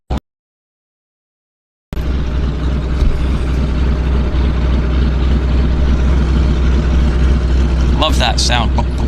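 A de Havilland Beaver floatplane's radial engine at Vancouver Harbour, a loud steady drone after a brief silence, close and constant, with a short burst of voice near the end.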